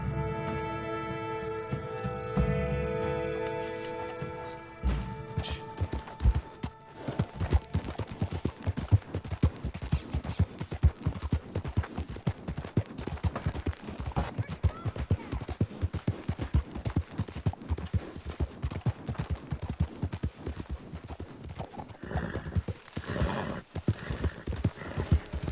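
Horse hooves clip-clop in Red Dead Redemption 2, a rapid, steady rhythm of close hoofbeats that runs for most of the stretch after a short opening.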